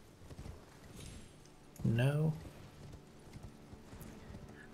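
Hoofbeats of Torrent, the horse mount in the video game Elden Ring, a soft clip-clop under game sound with a brief loud whinny-like burst in the middle; a voice speaks briefly.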